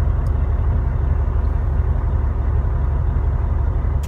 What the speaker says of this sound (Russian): Двигатель прогрет.